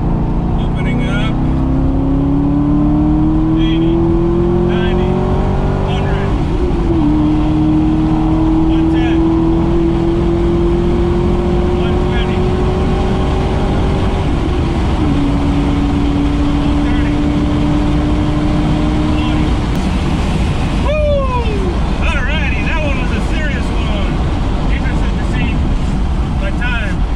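Corvette Z06 accelerating hard on the back straight at Road America, the engine note rising through several gear changes under loud wind buffeting, with a brief shift blip near the end.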